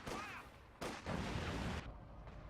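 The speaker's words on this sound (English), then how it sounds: "You got barrage coming down, perhaps trying to hit the Panzerwerfer" An artillery barrage in Company of Heroes 2, heard as loud, overlapping booms and rumbling blasts that rise and fall in heavy waves, a dense, close wall of explosions.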